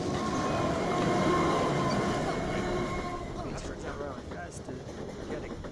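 A train rumbles past in the life-simulation video game Urbz: Sims in the City, a steady loud rolling roar over the first few seconds that gradually eases, with faint game sounds on top.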